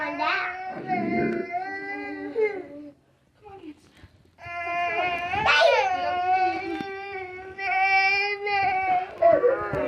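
Baby crying in distressed, wavering wails, loud and close, breaking briefly into a short near-silent pause before resuming with strained, rising cries.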